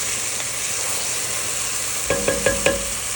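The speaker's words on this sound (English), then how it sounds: "You can see it sweating down nicely in my Dutch oven." Vegetables sweating in a Dutch oven hiss in a soft, even sizzle, then four quick knocks of a utensil against the pot ring out near the end.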